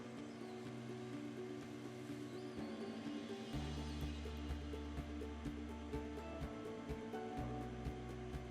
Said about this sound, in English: The next step is to weld the outside part of the bumper using the same process.